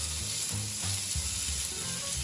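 Onion sizzles in a little oil in a pot over low heat, a steady close crackle and hiss with soft stirring scrapes and no talking.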